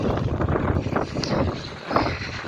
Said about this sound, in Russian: Сегодня ужасно сильный ветер.